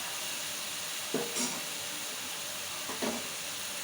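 Onion and green chilli paste sizzles in a hot pan while a fish curry is cooked, a soft, steady frying hiss broken by two short stirring scrapes.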